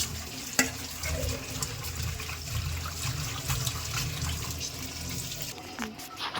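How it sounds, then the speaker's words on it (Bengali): Pointed gourds (potol) being washed under running tap water, a steady splashing stream with occasional clatter and knocks, close and continuous. "সুন্দর করে পটলগুলো সুন্দর করে ধুয়ে নেব"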